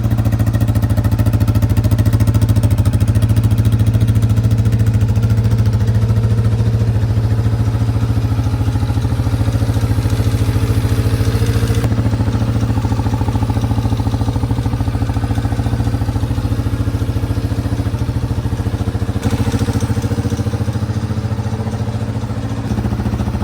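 A 2002 Yamaha Wolverine ATV engine, run after sitting almost 10 years, idles steadily with a low, chugging rumble that holds constant throughout, with no voices over it.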